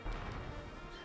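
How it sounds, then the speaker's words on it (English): A Waddle Dee gets smashed in Kirby's Return to Dream Land, one short, loud crunching crash with a noisy, full-bodied impact that fades quickly. "Oh, geez, you just like smashed Waddle Dee."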